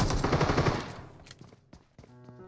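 A single loud AWM sniper rifle shot in a video game, a sharp booming crack with a long echoing tail, followed by faint clicks of the bolt being worked.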